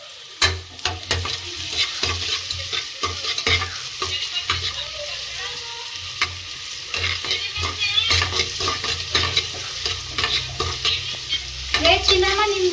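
Onion sizzling and frying in hot oil as it is stirred, with steady crackle and repeated scraping strokes of a spoon in the pan, close and continuous.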